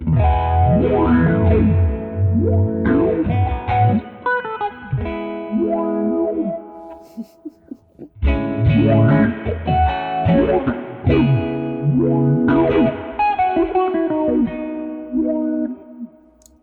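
Electric guitar played through an Old Blood Noise Float Dual Moving Filter pedal, sweeping filtered chords with distortion and chorus-like movement, loud and continuous with a brief dip midway.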